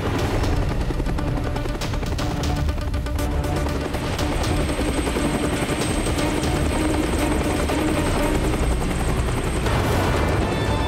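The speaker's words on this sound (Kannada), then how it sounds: "ಕೆಳಗೆ ಪ್ಯಾಲೇಸ್ ಹತ್ರ ಹೆಲಿಕಾಪ್ಟರ್ ಲ್ಯಾಂಡ್ ಮಾಡು" A helicopter landing near a palace, its loud rotor chop and turbine whine steady and close throughout, with a high tonal whine rising partway through.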